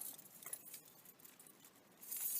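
Quiet metallic jingling of Datsun 280ZX car keys, light and brief, close to the microphone with a faint rattle at the end.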